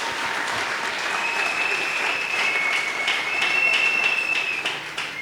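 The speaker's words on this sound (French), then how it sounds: "Est-ce qu'on peut acclamer pour ces grands fondements?" A church congregation breaks into sustained applause at a Sunday service, a dense wash of clapping that holds steady throughout and swells slightly toward the end, with no speech over it.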